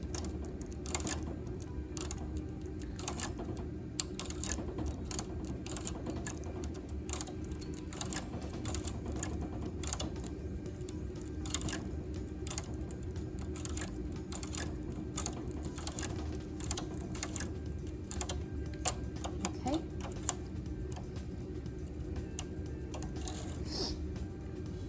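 Domestic knitting machine doing lace transfer work, faint clicking and ratcheting of needles and tools in a quiet room, irregular small taps and clacks scattered throughout.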